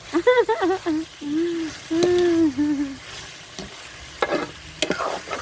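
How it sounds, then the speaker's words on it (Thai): Stir-frying aromatics, Thai basil, eggplant and Japanese tofu in an old wok: sizzling and scraping strokes, with a voice speaking and humming over the cooking. "ใส่เครื่องผัดให้หอม"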